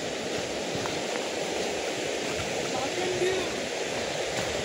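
A swollen river rushes past close by, giving a steady, loud broadband roar that stays even from start to finish.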